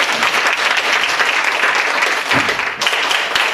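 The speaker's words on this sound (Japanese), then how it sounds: "拍手" A press-conference audience at a comedy festival launch event bursts into loud, sustained applause, dense clapping filling the room throughout with a brief dip near the end.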